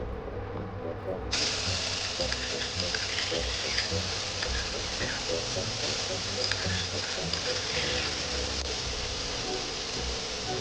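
Ginger paste hits hot oil in a pan while cooking a jimikand (elephant foot yam) biryani, bursting into a loud, steady sizzle that continues evenly while someone talks.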